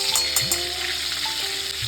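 Butter melts and sizzles in hot oil left over from frying paneer for palak paneer, a steady close crackle with brief sharper spits and a faint stir, no voices.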